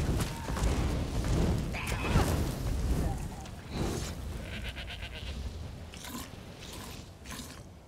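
A goat in a video game gives a few quavering bleats amid dense game noise, with munching or biting sounds and some faint talk.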